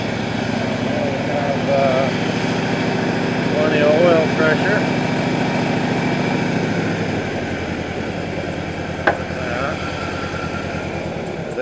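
A small engine fitted with an ABS 2 carburetor starts and runs, giving a steady buzzing drone that drops in tone partway through and ends with a sharp click, under a speaking voice.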